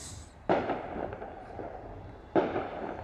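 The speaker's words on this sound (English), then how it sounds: "Well, firecrackers. A couple weeks early, but what do you do?" Two firecrackers pop outdoors about two seconds apart, each a sharp crack that fades into a brief rumbling tail, moderately distant over quiet background hiss.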